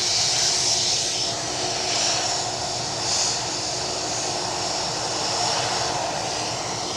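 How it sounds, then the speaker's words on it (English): An EasyJet Airbus A320 inbound from Venice to Edinburgh Airport makes a continuous broadband jet roar, fairly loud and steady with gentle swells. "inbound EasyJet from Venice. An A320 coming your way, folks."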